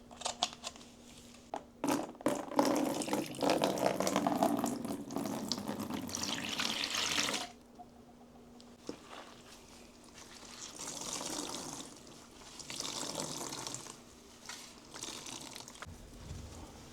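Tap water is splashed into a container to mix a cleaning solution for restoring an antique music cabinet, with a loud running spell early on, a pause, then softer intermittent trickling and handling noises.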